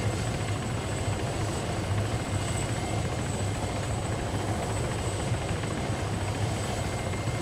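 Helicopter in ArmA 3 hovering to land near a prison, a loud, steady rotor thrum with constant engine whine that continues unbroken throughout.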